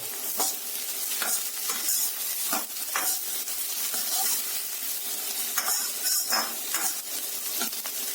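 Chopped green chillies, four pieces, sizzle steadily in a hot pan with vegetables for street-food egg chicken chowmein, punctuated by repeated scrapes and stirring clinks of a metal spatula, close and continuous with no talk.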